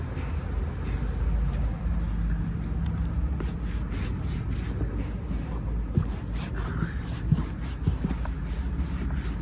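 A truck passes noisily near a Ford Courier being cleaned, a broad, steady rumble holding throughout with a few scrapes and knocks on top.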